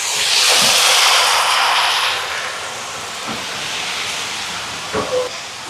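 Fried okra hits a pan of vegetable curry with potato, setting off a strong broad sizzle that swells loudly at first and then settles into a steady softer hiss, with a few light clinks of a utensil.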